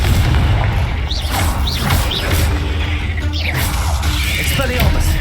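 Confringo fire spell blasts in the Hogwarts Legacy video game, a dense run of booming explosions and crashes over a constant rumbling battle din, with swooshing spell casts and brief grunting voices mixed in.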